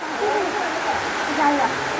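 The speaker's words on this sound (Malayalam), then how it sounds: "നല്ല അടിപൊളി മഴ പെയ്യുന്നു" Dense, steady hiss of heavy rain pouring down nearby, with faint indistinct voices underneath.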